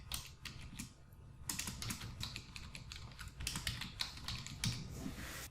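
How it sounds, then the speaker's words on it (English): Typing on a computer keyboard while entering a report title, with rapid irregular clicking bursts of keystrokes separated by brief pauses, close and fairly quiet, with no talking. "type your report title"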